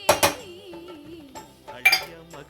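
Chopped onion tipped into a pan that already holds capsicum, giving a couple of sharp metallic clinks at the start and again near the end, with a faint tonal hum in between and no voices.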